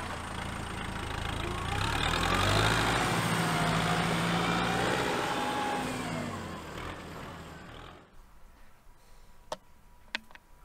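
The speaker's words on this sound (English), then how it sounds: "Nice tractor too." A farm tractor's engine runs close by for about eight seconds, a steady mid-pitched drone that rises slightly and then cuts off, leaving quiet countryside with a couple of sharp clicks; no one talks over it.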